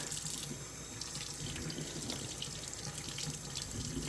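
A tap runs steadily into a sink as a sanded cup is washed with dish soap, a faint continuous splashing stream heard close with no voices.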